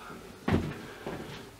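A drawer under a shelf in a furnished apartment bedroom slides and bumps, one distinct knock followed by a softer second thud, fairly faint and close with no talk.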